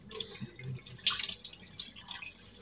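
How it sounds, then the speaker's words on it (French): Water being poured off kefir grains into a sink, a short run of irregular drips and splashes, close and fairly quiet, with no talking. "je vide l'eau, je les vide"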